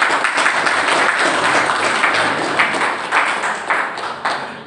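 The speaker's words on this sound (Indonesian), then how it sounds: "Tepuk tangan dulu." An audience applauds at an induction ceremony and curriculum seminar, a dense sustained clatter of many hands clapping that fades toward the end.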